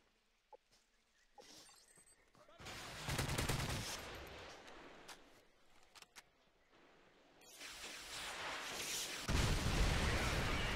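Bursts of a teammate's gunfire in a first-person shooter, the CM901 rifle, coming in loud, broken volleys with quieter gaps between them and a heavier sustained stretch near the end, no voices.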